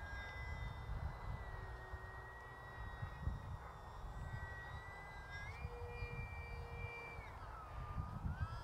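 An RC bush plane hovers nearby with a steady, sustained electric motor whine whose pitch holds and then shifts as the throttle changes, over continuous outdoor wind noise.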